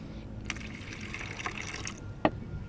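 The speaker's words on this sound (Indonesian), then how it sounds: "Kasih air dulu." Water poured onto IC RAM chips soaked in sulfuric acid, a faint steady splashing wash running through the clip with a few sharper splashes, no talk.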